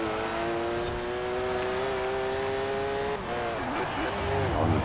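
A Porsche engine in Forza Horizon 4 races at high, steady revs with a smooth tonal whine, then drops and wavers through a shift or braking before climbing again.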